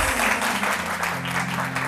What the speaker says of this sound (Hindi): मायरा के लिए बहुत सारी तालियां